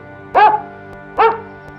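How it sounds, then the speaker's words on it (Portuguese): A dog barks twice in a children's fairy tale about the ugly duckling, two clear, evenly spaced woofs over a faint steady background with no talk. "Conheceu um cão pelo caminho."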